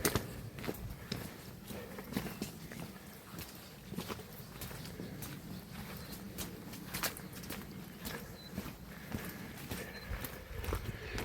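Horses walk slowly, hooves clip-clopping in an irregular rhythm, fairly distant and quiet, with soft outdoor ambience.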